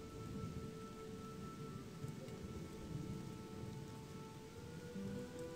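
Steady rain in the video game Gothic 2, a continuous dense patter with low rumbling underneath, even and moderately loud throughout with no voices.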